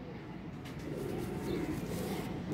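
A Teddy pigeon coos softly in a short, low, continuous murmur, faint and alone with no talk.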